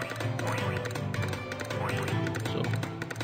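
Repeated honking and quacking of geese in the video game Adventure Story, a busy run of calls over game music with faint talk.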